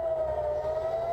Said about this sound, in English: Sirens wailed across the nation Saturday as Hamas militants launched thousands of rockets into Israel.